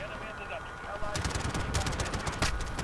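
Call of Duty Hardhat gunfire: a quiet opening second, then dense rapid bursts of automatic weapon fire crackle loudly and close, with sharp individual shots standing out.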